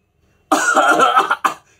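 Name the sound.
bursting cough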